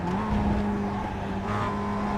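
Mazda MX-5 Cup race car in iRacing brakes into a corner at Laguna Seca, its engine note holding a steady buzzing pitch that drops and rises again over a couple of seconds, with no talking.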